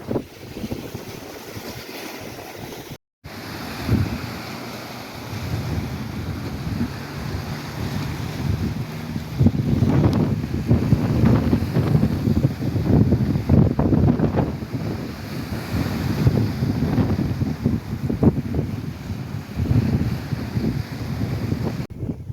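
Strong gale-force wind buffets the microphone on an open shore while heavy surf crashes steadily, a loud continuous roar with rumbling wave surges and no voices.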